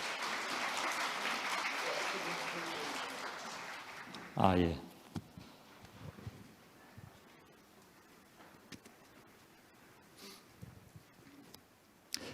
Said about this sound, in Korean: 다시 한번 감사의 박수를 부탁드리겠습니다.